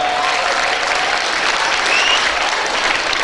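Brief, dense applause rises from a crowd of teachers and students at a school foundation assembly, steady clapping at full volume from start to finish with a faint voice cutting through once.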